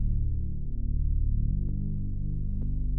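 A synth sub bass built in Serum inside FL Studio, a deep sine-based tone playing a steady low bassline that shifts pitch midway, loud and alone with no voices.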